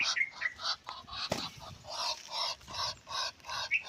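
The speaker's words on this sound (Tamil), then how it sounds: "சூப்பராக ஹைட்டாக பறக்கிற ஒரு வாத்துனா நம்ம மணிலா வாத்து சொல்லலாம்" A Muscovy duck, also called a Manila duck, gives a run of repeated raspy calls in steady short bursts, close and fairly loud, with no one talking.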